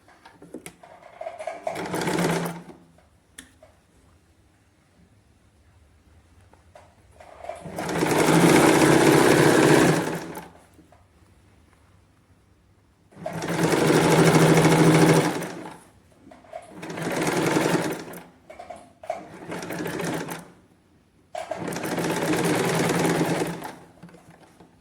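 A sewing machine stitches the belt of a katori blouse with puff sleeves in five loud bursts of steady whirring, separated by quiet pauses as the fabric is repositioned.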